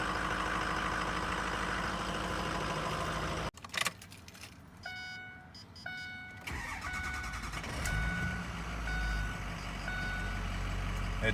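A 2006 Ford F-350 Super Duty pickup, unstarted for a week in cold weather, rumbles loudly, drops out, then cranks and fires back up amid repeating electronic chimes before settling into a heavy steady idle.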